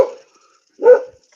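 Two short barks from a dog outdoors on a snowy rural property, the first cut off at the start and the second clear and fairly close, with silence between.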